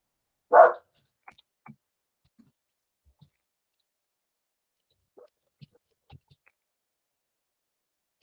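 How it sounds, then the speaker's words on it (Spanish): A single short, fairly loud dog bark near the start, followed by faint scattered clicks and small noises in an otherwise quiet room. "¿escuchan mucho a mi perro? ¿Se escucha mucho ladrar?"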